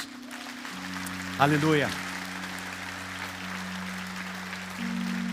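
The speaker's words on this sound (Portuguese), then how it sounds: "você pode dar um forte aplauso a Jesus?" A church congregation applauds for Jesus, a broad wash of clapping beneath sustained keyboard chords, while a voice briefly calls out over it.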